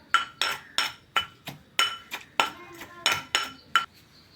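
Onion and rock salt being crushed for chammanthi, about eleven sharp, evenly spaced pounding strikes with hard, clinking attacks that ring briefly, close and fairly loud with quiet gaps between blows.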